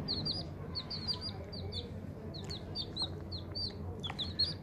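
Many young farm chicks in a cage give high, rapid peeping chirps and soft clucks, a busy continuous chorus close by over low background noise.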